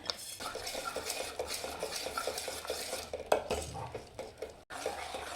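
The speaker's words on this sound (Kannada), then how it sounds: "ಖಾರ ಗಟ್ಟಿಗಿರೋದ್ರಿಂದ ತಳೆ ಹಿಡಿಯುತ್ತೆ, ಸ್ವಲ್ಪ ತಿರುಗಬೇಕು" Spoon stirring mung beans in a pot of buttermilk curry, a steady run of scraping, clinking strokes against the pot that stops briefly near the end, with no talk.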